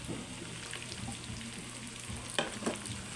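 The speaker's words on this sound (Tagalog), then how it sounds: "Sarili mantika niya to. Gisa na natin." Pork for humba sizzles and fries in its own rendered fat, with a steady hiss under occasional stirring clatters and a louder scrape near the end, and no voices.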